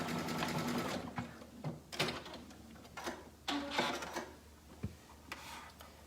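A home sewing machine runs a zigzag stitch along a fabric seam, a steady, close mechanical rattle in short bursts with brief pauses and pivots between them.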